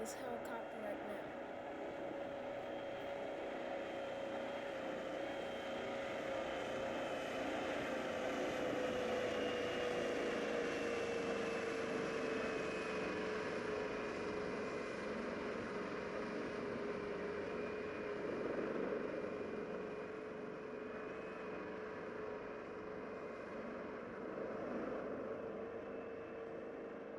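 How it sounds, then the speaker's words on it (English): A NASA helicopter carrying the Artemis 2 crew into San Diego drones steadily with a constant engine and rotor hum and a sustained whine, muffled and unbroken throughout, with no talk. "The Artemis 2 crew is arriving on a NASA helicopter into San Diego City"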